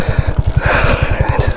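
A 2022 Honda Grom motorcycle idles close by, its small engine pulsing in a quick, even low thump under steady wind or rushing noise, loud and alone.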